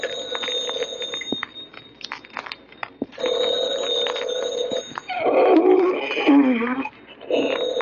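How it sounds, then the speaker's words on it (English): An old-fashioned telephone bell rings in bursts in a vintage horror radio drama, the ringing alternating with background music and swelling louder toward the end. "Oh, the phone."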